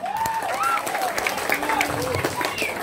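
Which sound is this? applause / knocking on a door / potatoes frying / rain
applause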